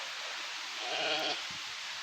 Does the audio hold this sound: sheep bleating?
yes